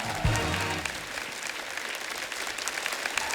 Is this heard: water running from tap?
no